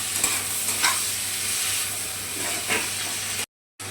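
Tomato and split pea curry being stirred in a pan, with a steady sizzle and steam hiss and a few scraping strokes, up close and without talk, until it cuts off abruptly near the end.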